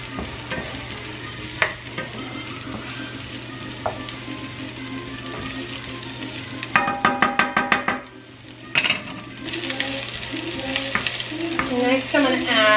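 Sesame seeds cook in an oiled pan with a continuous sizzle, occasional knocks and scrapes, and a short burst of rapid ticking pops midway before the frying hiss resumes.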